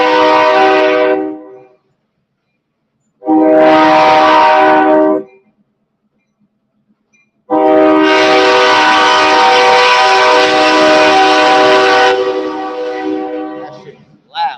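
Loud train horn blasts in three bursts, two short ones followed by a long sustained blare, with a rumbling freight train passing close by between and under them.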